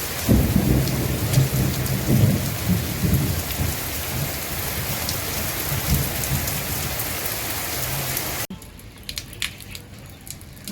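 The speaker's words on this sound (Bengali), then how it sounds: "আজও বৃষ্টি হচ্ছে।" Steady heavy rain beats down with rumbling thunder during a rainy day at home, loud and continuous, then it abruptly drops to a quieter patter of drips near the end.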